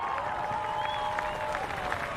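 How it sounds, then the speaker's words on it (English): A crowd at the Indianapolis race track applauds after a car flip, a dense, steady clatter of clapping with faint crowd murmur and a thin whistle-like tone drifting through. "a big round of applause from the crowd here"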